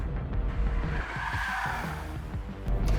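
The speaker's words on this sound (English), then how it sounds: "So you can light up the front tires and have a ball." A 2020 Volkswagen Polo TSI without traction control spinning its front tires, a continuous loud screech of tire squeal over a steady engine roar, close and sustained throughout.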